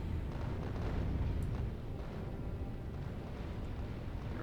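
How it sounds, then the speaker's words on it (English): Rockets blasting apart chunks of a space platform in the Factorio video game make a continuous rumbling barrage of overlapping explosions, with a slightly heavier burst early on that settles into a dense, steady roar. "blowing it up using rockets"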